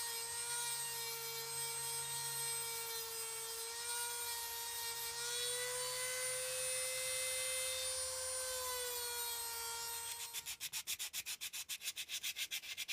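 Sandpaper rubs the edge of the guard on a hidden-tang knife with an antler handle. A steady humming tone runs underneath, then near the end come rhythmic back-and-forth sanding strokes, faint and close, with no talking.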